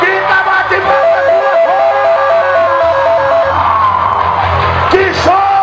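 A rodeo arena crowd whoops, yells and cheers loudly and continuously, with a sustained mass of shouting voices and a steady tonal call running beneath.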